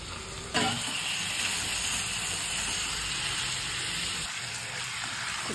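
Washed chicken pieces hit a hot pan of masala for curry leaf chicken fry, setting off a sudden loud, steady sizzle and hiss that continues without a break.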